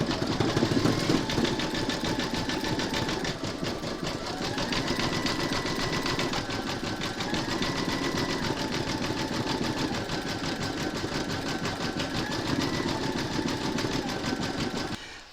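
A domestic sewing machine runs a zigzag stitch over the raw appliqué edges around a large gnome's beard and feet. Its motor whirrs steadily and closely for the whole stretch, with small shifts in pitch and no talking.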